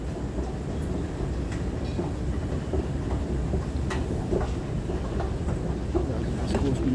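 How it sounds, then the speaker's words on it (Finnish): Metro train rolling steadily on rails for about seven seconds, a continuous rumbling clatter with faint clicks and hiss, heard from inside the car. "me hitaa aikaisempaa metroa"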